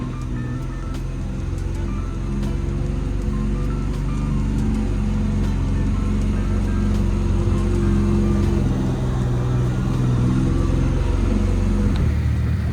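A 2025 Can-Am Maverick R XRS MAX off-road vehicle drives steadily, its engine a loud, continuous low rumble with a smooth drone and slight shifts in pitch throughout.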